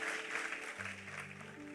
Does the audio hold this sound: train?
no